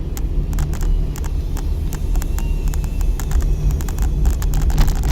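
Car engine drones steadily from inside during a driving lesson, a close low hum that builds slightly toward the end, with faint ticking clicks over it.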